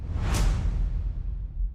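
A single loud whoosh sweeps past with a jet-like roar, sharp at the start and fading into a low rumble.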